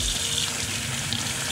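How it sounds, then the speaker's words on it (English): Hot water runs from a tap in a steady, close rush, being added to a bleach mixture used to clean white sturgeon scutes. "we're gonna add a little bit of hot water to the mix"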